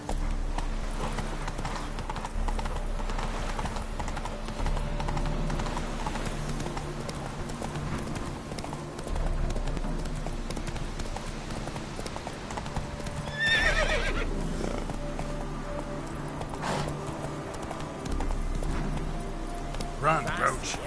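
Roach, the horse in The Witcher 3, gallops with rapid rhythmic hoofbeats and gives a whinny partway through, steady and close over a low game music bed, with a voice speaking briefly over it.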